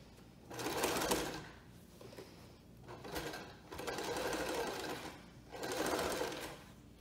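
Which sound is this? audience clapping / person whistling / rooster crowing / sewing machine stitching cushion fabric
sewing machine stitching cushion fabric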